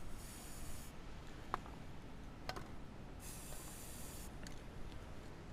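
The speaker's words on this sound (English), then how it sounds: "you want to go fast with your spray, but you don't want to push the cap all the way down" Spray paint can hissing for hydrodipping an ATV part, soft broadband bursts with a stronger spell at the start and another in the middle, fairly faint and close, with small clicks between.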